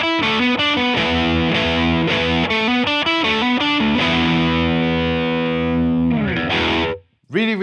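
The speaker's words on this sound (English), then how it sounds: "we do have distortion pedals to emulate the sound of cranked amplifiers, and that's what I'm going to use now with the Rev G4" An electric guitar runs through a Rev G4 distortion pedal playing a riff, loud crunchy chugging notes in a quick driving rhythm that ends in a brief gap before a last stab.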